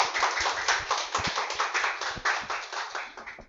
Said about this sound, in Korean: 박수가 필요해요.